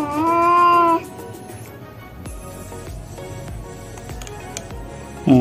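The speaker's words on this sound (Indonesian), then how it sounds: "tapi kucing yang hamilnya kayak nggak seneng" A pregnant stray cat lets out a loud, drawn-out meow up close, followed by quieter rustling and clicks, then the start of another cry at the end.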